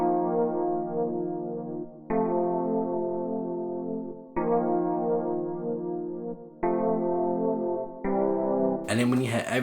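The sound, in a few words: simple chord progression on 80s electric piano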